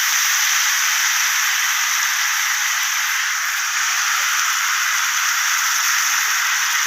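Chopped cabbage hits a hot pan and sizzles with a steady, loud hiss that holds evenly from start to finish, close up and without talk.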